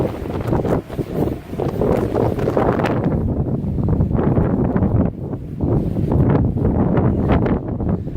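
Strong wind buffets the microphone outdoors at an empty property in Normandy, a steady loud roar with gusting swells and brief dips throughout.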